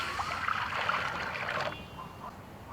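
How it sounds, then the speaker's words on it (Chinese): Water poured into a cooking pot, a steady splashing trickle close by that stops abruptly partway through, leaving a quiet background. "锅里加水"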